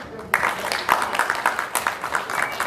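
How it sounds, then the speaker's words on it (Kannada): Audience applause at the Appu Cup Season 2 launch event, a dense, steady wash of clapping from a crowd that starts abruptly and continues throughout, with some voices mixed in. "ವಾಣಿಶ್ರೀ ಅವರು ದಯವಿಟ್ಟು ಡಬಲ್ ಚಪ್ಪಾಳೆ."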